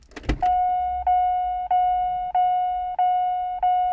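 Opel Astra J with its door opened: a short clunk of the latch, then a steady electronic warning chime that repeats about every 0.6 seconds, close and clear, with no talking.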